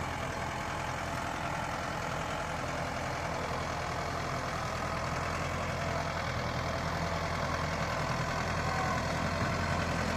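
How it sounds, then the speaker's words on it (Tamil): Tractor engine running steadily while pulling a 5-tyne cultivator, a continuous loud, even mechanical drone with no change in pitch or level and no voices. "வண்டி பார்த்திங்கன்னா நார்மலாக ஓடுது எந்த ஒரு அழுத்தம் அது மாதிரி எதுவுமே இல்லாமல்"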